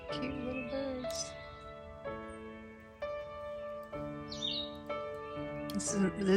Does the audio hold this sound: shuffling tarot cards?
no